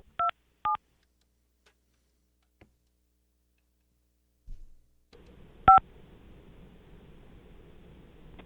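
A telephone dialed on a different line gives two short beep tones, then a pause, a faint click, a low thump, and another tone over a quiet line hiss.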